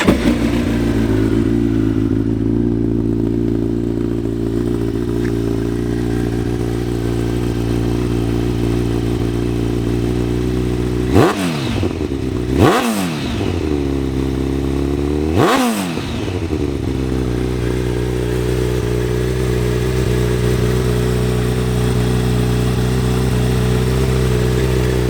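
A 2008 Kawasaki Ninja ZX14 with about 9,800 miles runs at a steady, close idle, broken by three sharp throttle blips that rise and fall in quick succession before it settles back to its even burble.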